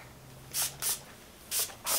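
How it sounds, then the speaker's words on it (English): Four quick hissing bursts from a pump spray bottle of TRESemmé heat protectant sprayed on hair, close up, in two pairs with short pauses between. "Heat tamer spray. Just spray that all over."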